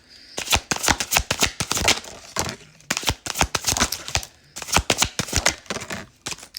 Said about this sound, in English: we'll get some tarot cards